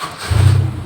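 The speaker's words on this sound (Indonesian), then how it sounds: "nah coba kita nyalakan ya" A car engine cranks and catches in one short burst, a low rumble swelling up close right after a brief starter whir.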